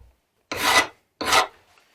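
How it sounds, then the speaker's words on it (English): A file rasps along the rails of a chainsaw guide bar in two separate strokes, each about half a second long and close to the microphone, with short silences between them. "Just file the bar, the rails on this side."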